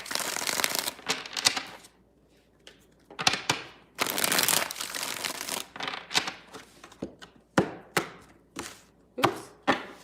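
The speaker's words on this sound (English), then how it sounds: "Two more shuffles here, 2 more." Tarot cards shuffled by hand close up, in quick crisp bursts separated by short pauses, with several rapid riffles toward the end.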